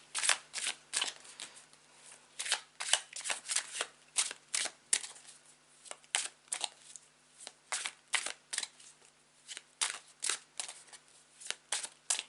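A tarot card deck is shuffled close up, giving a long, crisp run of repeated riffling flutters and soft slaps that comes in uneven bursts and goes on without any talking.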